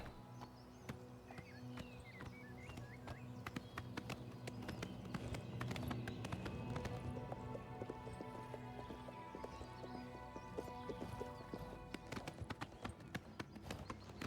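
In a video game, a horse walks away with a steady clip-clop of hooves that stays faint and fairly distant, repeating evenly throughout with no talk over it.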